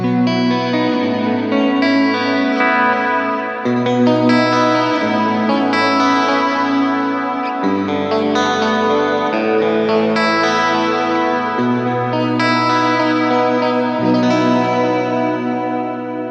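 An electric guitar, the Specular Tempest, played through the onboard effects loop of a Tsakalis Mothership tube overdrive preamp with reverb, ringing sustained chords that change every second or two, loud and continuous with a lush, washed tail.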